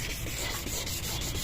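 A yellowed Nissan Almera headlight lens is hand-sanded: a steady, close, continuous abrasive rubbing with faint back-and-forth pulses and no speech.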